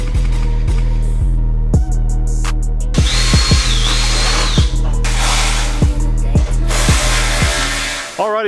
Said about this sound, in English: The next step after you have your little hole drilled here, I drilled 2